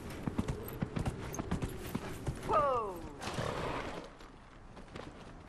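Horse in the game Dragon Age: Inquisition clip-clopping with crisp, evenly spaced hoof steps, then letting out a loud, shaky whinny, followed by a softer snort as the hoofbeats fade.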